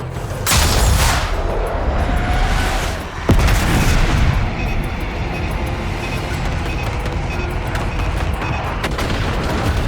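Aircraft-dropped bombs explode in Call of Duty Black Ops 6: a loud, continuous rumbling barrage with a sharp heavy impact partway through, and no talk over it.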